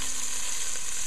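Onion sizzles in a hot pan as it is added, a steady bright crackling hiss heard up close and alone for a short moment.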